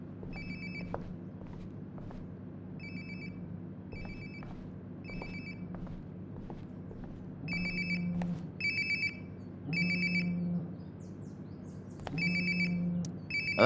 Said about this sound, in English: Sounds like my phone is definitely nearby.